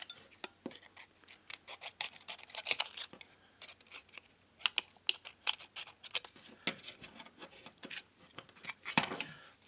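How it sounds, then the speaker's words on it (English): Scissors cut an old metal drinks can into a scrap square, making a series of sharp, crisp snips and metallic crunches in an irregular rhythm, close up and with no talking. "Cut your can into a scrap of metal."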